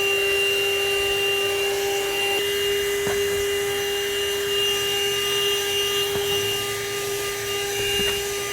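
A handheld car vacuum cleaner runs outside with strong suction, giving a loud, steady motor whine and airy rush that holds for the whole stretch with no pauses and no voices.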